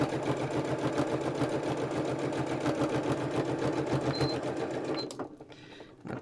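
Sewing machine running a lock-in stitch on a hexie puff bag, a fast steady mechanical chatter of rapid even stitches that stops abruptly near the end.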